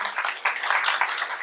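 Audience applause after a thanks for an introduction at a talk on improving testing quality by changing culture: dense, steady clapping from a crowd, continuous across the whole stretch with slight surges.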